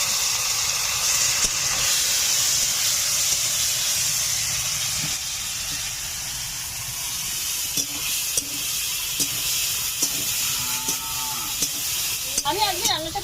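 Chopped tomatoes hitting fried onions in a pan for rohu fish kalia, producing a loud, continuous hissing sizzle up close, with stirring clatter and a voice talking briefly near the end.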